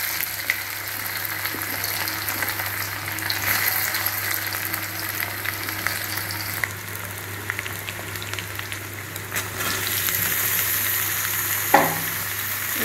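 Potato and jackfruit pieces fry in hot oil, a continuous crackling sizzle with occasional stirring scrapes and a metallic clink near the end, no talking.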